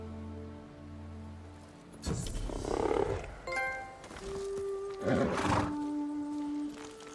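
A horse in the video game Ghost of Tsushima snorts and whinnies in two breathy bursts, set against sustained musical tones in a quiet scene.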